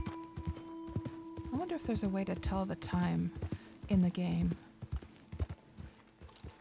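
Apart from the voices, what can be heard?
horse hooves clip-clopping in Red Dead Online video game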